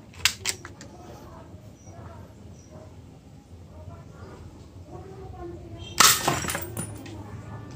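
A glass bottle shatters when hit by a BB fired from a spring-upgraded Glock 26 airsoft pistol, giving a sudden loud crash of tinkling shards late in the clip, after a faint earlier snap and some low background murmur.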